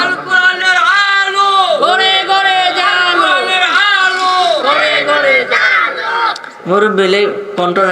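A large crowd at a Bangladeshi Islamic religious gathering chants the takbir in loud, rhythmic unison, each call answered by a swelling, drawn-out massed shout, repeated several times in close succession.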